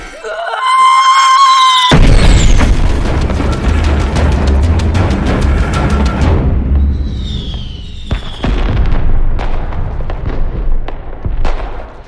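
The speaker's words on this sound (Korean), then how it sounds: "미리 설치해둔 폭죽이 터지기 시작하고" Loud firecrackers burst in rapid crackling volleys, with whistling and a shrill cry at the start, and continue in dense popping bursts throughout.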